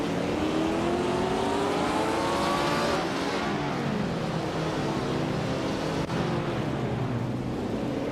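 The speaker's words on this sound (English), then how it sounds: "Dreamkeeper is racing a Lotus 25 from 1962." A 1962 Lotus 25 race car in a racing video game, its engine holding a loud, steady high-pitched drone with a rising then dipping pitch, continuous and close throughout.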